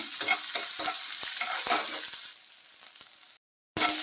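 Onion is tipped into hot oil already crackling with mustard seeds, cumin and a dried red chilli for tambuli. A loud, close sizzle comes with repeated stirring clatters, then settles quieter before a brief cut.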